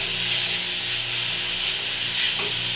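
Grated carrot with beetroot sizzles and hisses steadily in a hot pan while being stirred, a continuous bright frying hiss with soft scraping movements and no talking.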